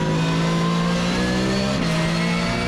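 A Porsche race car at Zandvoort circuit accelerates out of a corner, its engine note loud and close with a sustained rising drone and a brief shift in pitch midway.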